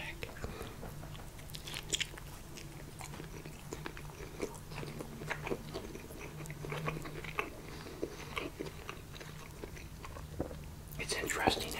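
Close, soft crunching bites and wet chewing of a Big Mac Attack pizza topped with lettuce and pickles, quiet and intimate, with faint whispering in the background.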